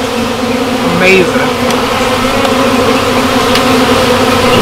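Honey bees at their hive, around frames of developing brood, give off a steady, close, layered buzzing drone that runs throughout, with a voice briefly speaking over it.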